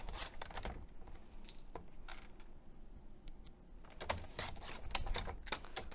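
Paper card being trimmed, a notch cut off each side, heard as a run of close crisp clicks and snips with small pauses between them, louder toward the end.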